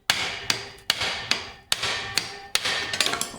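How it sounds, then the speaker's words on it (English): A hammer strikes metal repeatedly, about eight sharp ringing blows in a steady rhythm, loud and close with no talking, while loosening the pinion seal on a 1972 Pontiac GTO. "I'm gonna whack it with the hammer"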